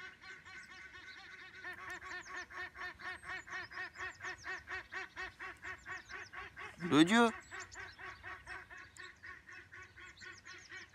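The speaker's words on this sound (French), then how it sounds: "ils gueulent les canards." Ducks quack loudly and rhythmically near a carp fishing spot, a steady run of repeated honking calls with one brief exclamation from a man partway through.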